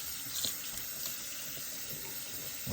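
Warm water runs steadily from a tap into a sink for sugar-water bee feed, a soft, even splashing hiss that carries on alone without any talk.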